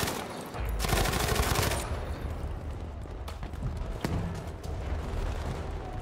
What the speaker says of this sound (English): Hipfire feels better than the other MGs.